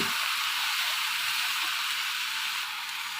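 Okra frying in a pan while being stirred, giving a steady, even sizzle close by that stays constant throughout, with no talking.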